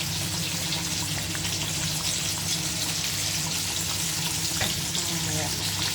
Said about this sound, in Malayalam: നമ്മുടെ മീൻകറി തിളച്ച് മറിഞ്ഞുകൊണ്ടിരിക്കുന്നു